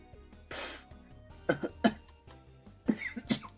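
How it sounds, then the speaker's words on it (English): Several harsh coughs close to the microphone: one burst, then paired coughs in two clusters, with a breathy rasp between them. "Wait, that's me really coughing."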